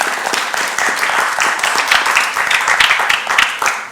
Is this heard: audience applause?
yes